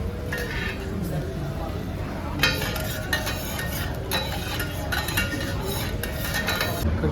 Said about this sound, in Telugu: సో ఇక్కడ ఫ్రైడ్ రైస్ అయితే ఇట్లా చేస్తున్నారు